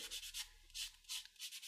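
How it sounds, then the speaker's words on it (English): Close, soft sanding of a Gunpla plastic model part with medium-grit sandpaper, five or six short raspy back-and-forth strokes in an even rhythm. "I'm going to sand the other side as well."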